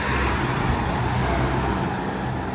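Continuous road traffic near a college town along the Appalachian Trail, a steady broadband roar of passing cars and trucks, fairly loud and close with no voices.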